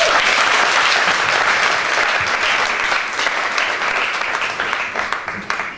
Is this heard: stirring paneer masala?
no